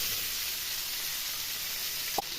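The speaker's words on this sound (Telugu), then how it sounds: "ఇప్పుడు ఇదే ఆయిల్లో 1/4 కేజీ టమాటాలు వేసుకోవాలి." Tomatoes, a quarter kilo, sizzling in hot oil in a pan, a steady bright hiss throughout with a brief soft clink near the end.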